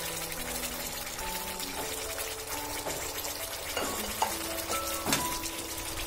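Chili and peeled shrimp stirred with fried rice vermicelli in a pan, a continuous sizzle under repeated scraping and stirring strokes, a few louder clinks near the end, no talk.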